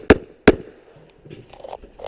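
Two sharp, loud pistol shots about a third of a second apart at an IDPA match, fired at a pop-up target, followed by faint clatter and movement sounds.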